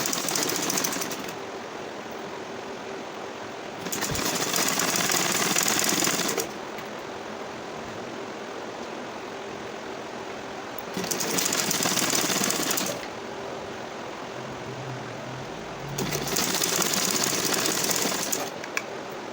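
A sewing machine stitches a palazzo pants seam in three bursts of fast rapid whirring and clatter, each a few seconds long, separated by quieter pauses with a low background hum.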